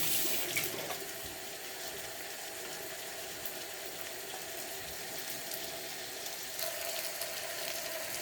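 A kitchen tap runs steadily into a sink while hands are washed, a continuous soft splashing stream with a few small clinks, heard close and alone.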